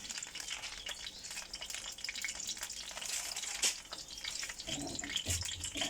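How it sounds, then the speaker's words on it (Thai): Garlic stir-fried in a pan for a Thai stir-fry of stink beans with fresh shrimp, sizzling steadily and crackling, with a few spatula scrapes, close and loud, with no talking. "แล้วเราก็จะผัดกระเทียมให้มันหอมเนาะ"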